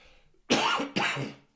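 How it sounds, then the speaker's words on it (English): Two quick, harsh coughs close to the microphone, one right after the other, then quiet. "Excuse me, I've got to cough."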